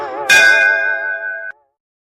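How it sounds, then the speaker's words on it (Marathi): A single school exam bell rings in a cartoon, a bright metallic tone that starts sharply, holds steady for about a second and cuts off abruptly, alone with no talk. "चला आता बेल झाले, प्रत्येकाने पेपर घ्या."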